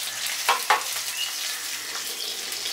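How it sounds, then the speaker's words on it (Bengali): Cabbage pieces fry in a pan with a steady close hiss and sizzle, and two brief scrapes of stirring come near the start. "এগুলো বেশি ভাজার দরকার নেই।"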